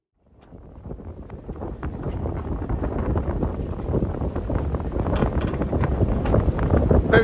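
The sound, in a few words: wind on a sailboat off Koh Phangan, Thailand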